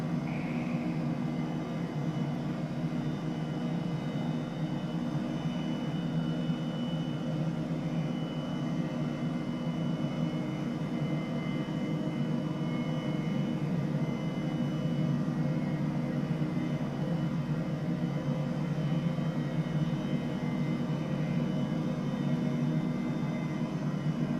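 A steady, droning turbine whine and rotor hum from an H135 helicopter in Microsoft Flight Simulator runs unbroken and fairly loud throughout, with no talking over it.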